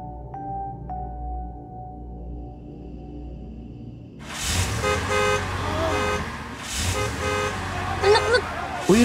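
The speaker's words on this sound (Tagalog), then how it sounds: "Patay niyo yung busina niyo!" A car horn blares in long, loud, repeated honks after a quiet stretch, with other horns and voices mixed into the noisy blare.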